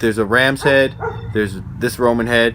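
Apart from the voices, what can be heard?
neighbour's dog barking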